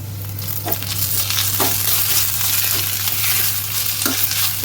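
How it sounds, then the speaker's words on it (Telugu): Ginger garlic paste frying with softened onions in a pan for bitter gourd curry gives a steady sizzle, broken by a few short stirring scrapes, close and fairly loud with a low constant hum underneath. "ఇప్పుడు ఇందులో కొద్దిగా అల్లం వెల్లుల్లి పేస్ట్ వేసుకోవాలి"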